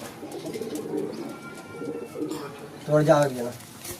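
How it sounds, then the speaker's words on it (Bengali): Pigeons, a pair including a black one, coo in low repeated throaty bursts, the loudest call near the end, close by with a voice talking over them. "জিরা পায়রাটার সঙ্গে যে কালো পায়রাটা জোড়া আছে, দেখুন।"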